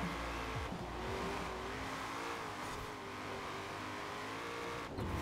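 A Ford Falcon FE fitted with NASCAR-style tires growls with a steady engine drone while its wheels spin in Forza Horizon 4, the sound sustained and fairly quiet throughout.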